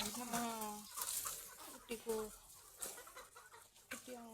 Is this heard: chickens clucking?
yes